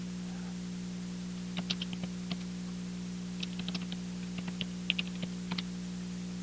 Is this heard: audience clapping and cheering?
no